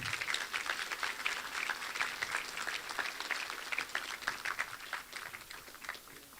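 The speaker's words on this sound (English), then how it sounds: "So give her a round of applause, Wilda Storm." An audience at a senior promotion ceremony for the class of 2024 applauds warmly, a sustained, fairly distant wash of many hands clapping.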